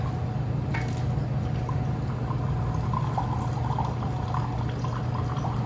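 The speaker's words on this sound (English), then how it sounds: "So I'm just going to pour this just a little bit in each one of these glasses" A bourbon cocktail is poured a little at a time into several glasses, giving soft continuous liquid trickling under a steady background hum.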